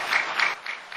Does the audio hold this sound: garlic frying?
no